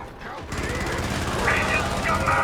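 Rockets fire in a Helldivers battle as a dense, loud, continuous barrage of blasts and booms that fills the whole clip without a break.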